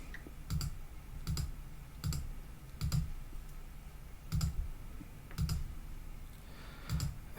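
Mouse clicks while tracing a shape with a 2D polygon tool in design software, about seven evenly spaced sharp clicks roughly one per second, close and clear with no talk.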